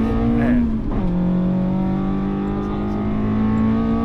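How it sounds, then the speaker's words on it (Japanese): Toyota AE86 engine roaring during a time attack on a track, loud and close with a sustained high-revving note that dips briefly on a shift and then climbs steadily again. "普段は心地よい爆音ですが、なんとなく富樫さんの悲鳴のようにも聞こえなくもないですけれども。"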